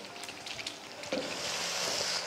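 Potatoes frying in masala on a medium flame give a soft, close sizzle with a few light stirring clicks, turning into a steadier, brighter hiss toward the end.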